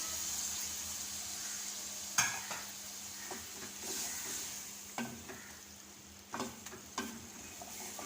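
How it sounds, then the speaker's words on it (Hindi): Chicken karahi sizzles steadily in the pan as tomato paste and green chili paste go in, with a few clear stirring scrapes and clinks of the utensil against the pot over a continuous frying hiss. "और अब इसमें टमाटर का पेस्ट ये डालेंगे और साथ ही सब्ज़ मिर्च इसका पेस्ट डालेंगे।"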